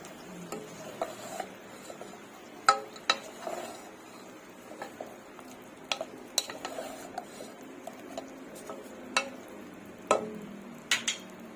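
Lomi noodles being stirred with oyster sauce in a pan, irregular close scraping and clacking of a utensil against metal, with sharp knocks scattered through.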